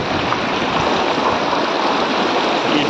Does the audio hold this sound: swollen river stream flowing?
yes